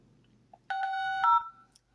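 Dial-tone style beeps and tones from a phone call played through the loudspeaker of a Xiaomi Redmi 9C smartphone, a steady two-tone signal lasting about a second before stopping, fairly close and clear.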